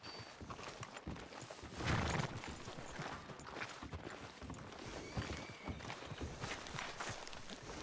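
A horse walks in Red Dead Redemption 2, its hooves clopping softly in an uneven rhythm amid faint town ambience, with a brief louder thump partway through.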